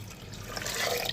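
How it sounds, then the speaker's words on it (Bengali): Water poured into a cooking pot while making ghugni, a short, steady splashing stream at moderate volume with no talk. "এবার পরিমাণ মতো আমি জল দিয়ে দিলাম।"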